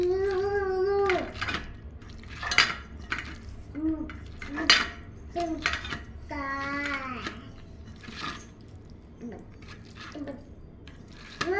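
A spoon mixing lemon marinade in a dish, with soft clinks and scraping against the dish under steady talking and a voice in the background.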